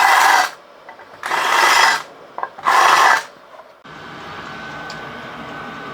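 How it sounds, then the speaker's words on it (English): A cheap Banggood deburring tool scrapes the edges of drilled holes in aluminium plate for a welding fixture, giving three loud, close rasping strokes with short pauses between them, followed by a quieter steady background hiss. "That's a cheap and cherry Banggood deburring tool"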